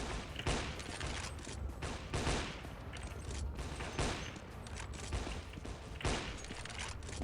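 Rapid gunfire in Counter-Strike 1.6 (CS:GO mod), a steady stream of sharp shots and bursts with several louder cracks, heavy and continuous, with no talking over it.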